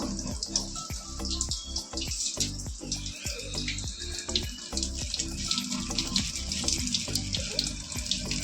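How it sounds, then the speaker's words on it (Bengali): Tap water pours steadily into a sink to wash meat, a close, continuous splashing rush with dull knocks of handling, with no one speaking. "এক্ষুনি কলে জল দিয়ে দিয়েছে ছাড়া জল একবারে মাংসটাকে আমি ধুয়ে নেবো"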